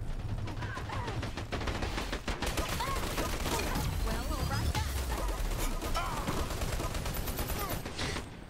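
Gunfire from the video game Dirty Bomb, including SMG fire, crackles in dense, continuous bursts that layer into a loud chaotic barrage, with excited voices talking over the shooting throughout.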